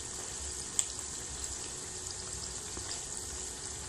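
Slices of spiny gourd (kakrol) frying in a pan give a soft, steady hiss of oil that carries evenly throughout, broken by a single small click early on, with no voices.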